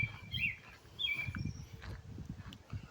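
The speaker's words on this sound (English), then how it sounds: "That's that bird you keep on hearing chirping that I had to zoom in on." A red robin chirps outdoors on a nature trail, giving a few short, faint chirps over quiet rustling and footsteps.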